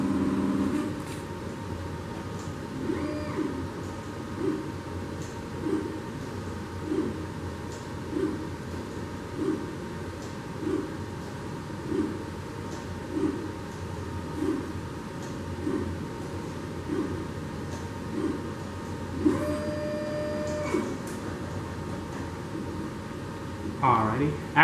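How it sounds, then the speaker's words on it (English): A laboratory plate reader scans samples during an XTT cell culture assay, giving evenly spaced mechanical pulses, roughly one every second or so, over a steady background hum, with a brief whir near the end. "You will now hear the plate reader start reading your samples"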